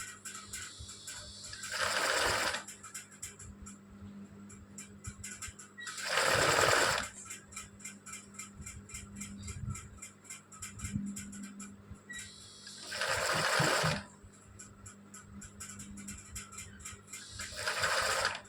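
Embroidery machine stitching a design in woollen thread, running in bursts of rapid mechanical chatter separated by quieter pauses while the frame is turned, close and fairly soft, no speech.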